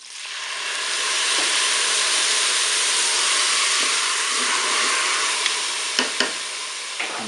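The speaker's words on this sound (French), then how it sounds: "Je verse mon verre de vin blanc" A glass of white wine hits rice in a hot pan, bursting into a loud, broad sizzling hiss that swells and holds, with a few utensil clicks near the end.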